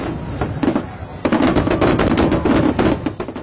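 Rapid, crackling bursts of fireworks popping in quick irregular succession, loud and close, with a denser barrage midway.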